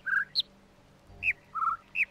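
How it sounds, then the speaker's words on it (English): Short, bright bird chirps in the video game The Witness, five or six quick tweets and whistles arriving in uneven bursts with brief gaps, clear and near, and no voices. "Birds are gonna make me lose my mind."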